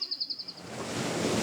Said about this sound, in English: Waves crashing on a beach.